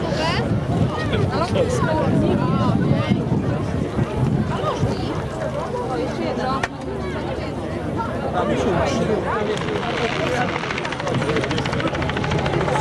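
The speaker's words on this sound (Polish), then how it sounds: "jest to jeden z najliczniej produkowanych śmigłowców na świecie" A helicopter at an air show picnic runs loudly and steadily nearby, its rotor and engine roar continuous under crowd chatter and talk.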